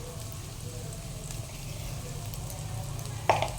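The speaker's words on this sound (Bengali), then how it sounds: "এবার আমি এটাকে একটুখানি ফ্রাই করে নেব।" Ginger, garlic and onion sizzle in hot oil with turmeric, a soft, steady frying hiss heard up close, with a brief clink near the end.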